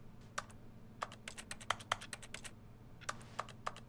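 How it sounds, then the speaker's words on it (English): Keyboard typing in the video game The Stanley Parable: Ultra Deluxe comes through as quiet, irregular clacking keystrokes in short bursts, sitting close over a faint low hum. "A keyboard noise?"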